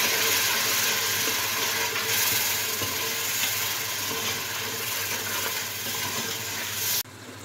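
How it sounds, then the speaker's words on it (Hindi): Haleem simmering in a large deg on a low flame, a steady hiss and sizzle of steam and bubbling that holds loud and even for about seven seconds before dropping abruptly. "ये देखें हमारी देग में जो है हलीम पक रहा है हल्की आंच पर।"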